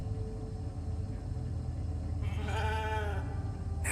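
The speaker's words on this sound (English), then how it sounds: "I created a sheep." A sheep in the video game Alters bleats once, a short wavering cry rising over a steady low in-game rumble, fairly close and clear with no talk.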